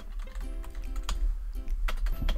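Fingers tap a computer keyboard right beneath the microphone in a quick, uneven run of close, sharp clicks with short pauses, and no voice is heard.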